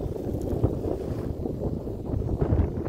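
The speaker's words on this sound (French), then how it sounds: "Vent, mais ça va, c'est supportable aujourd'hui." Wind blowing across Argentina's Ruta 40, a roaring low gusty rush buffeting the microphone, rising and falling unevenly throughout.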